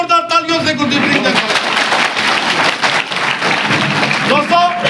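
A crowd at a BJP district rally applauds Gurdeep Singh Khalsa with loud, continuous clapping, mixed with voices and cheering throughout.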